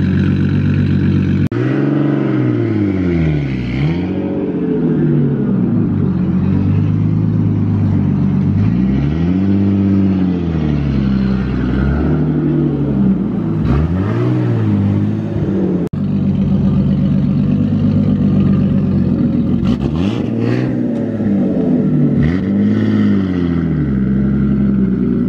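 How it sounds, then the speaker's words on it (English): Warm idle of a Toyota MK4 Supra, a loud, deep engine drone that stays close and constant with rhythmic swells and dips in pitch, no talking over it. "This is how loud his car is at idle. This is warm idle right now."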